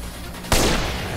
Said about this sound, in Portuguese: A Sniper de Hitman.